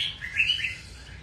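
Pet birds give a quick run of bright, high chirps and tweets at close range, lasting about a second, with no talking.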